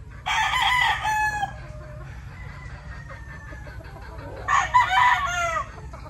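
Gamefowl rooster crowing twice, a loud nearby cock-a-doodle-doo, then a second crow after a pause, over a low background hum.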